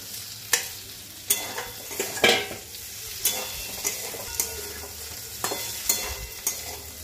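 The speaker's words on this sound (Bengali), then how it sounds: "আলুগুলো প্রায় সেদ্ধ হয়ে এসছে, ভাজাও হয়ে গেছে। এবার ঢ্যাঁড়সগুলো দিয়ে দেবো।" Spatula scrapes and stirs fried potatoes and fresh okra in a pan over a low, steady sizzle, with a dozen or so sharp irregular strokes while cooking a simple Bengali vegetarian okra-potato-poppy-seed dish; no voices.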